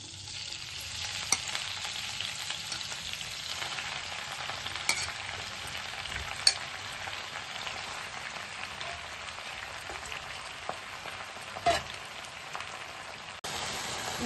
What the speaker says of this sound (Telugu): గోంగూర ఈ నూనెలో ఉడకబెట్టుకుందాం.